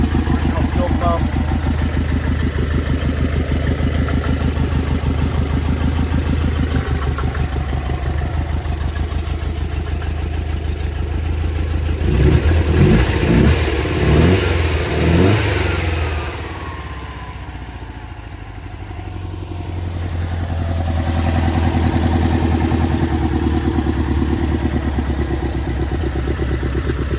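The original numbers-matching engine of a 1960 Porsche 356 B idles steadily and loudly up close, with a brief burst of revving and clatter midway before settling back to a lower idle that then rises again.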